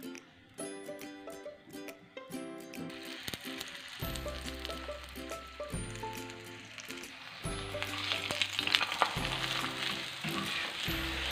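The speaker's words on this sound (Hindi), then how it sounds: "चलिए इस पे लगा लेते हैं देसी घी ताकि अच्छा सा क्रिस्पी पराठा बने।" Radish-stuffed paratha fries in desi ghee on a hot griddle, a steady sizzle that grows louder and denser through the second half beneath prominent background music.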